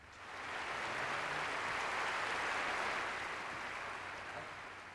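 Recorded applause from a studio track: steady, dense clapping that swells in and holds at an even level for several seconds, then eases slightly, with no voices.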